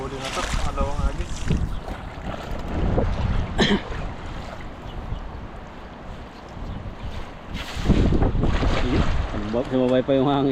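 Wind buffets a boat out on a wide river during fishing, a loud rough microphone rumble with gusting swells, while people talk intermittently over it.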